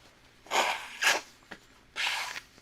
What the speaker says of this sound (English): excuse me while I blow my nose.